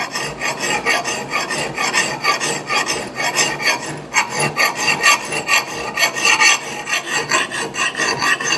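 Hand files rasp steadily against a badly worn steel axe head being sharpened, a close, rhythmic back-and-forth scraping of even, repeated strokes with no talking.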